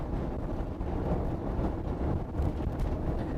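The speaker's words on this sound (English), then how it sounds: "the rumbling you hear now probably is the road" Steady low rumble of a vehicle driving over a rough road, with a continuous noisy roar and wind buffeting close to the microphone.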